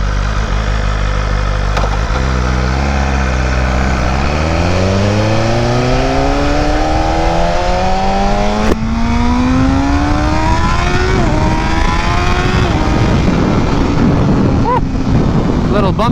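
A BMW M1000RR motorcycle is ridden on the street, its engine loud and close, climbing through rising revs with gear changes and steady roaring pulls under constant wind rush.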